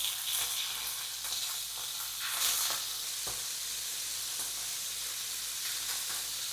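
Seared scallops sizzle loudly in a hot pan as they are flipped, a steady bright frying hiss with a few soft clicks of turning throughout.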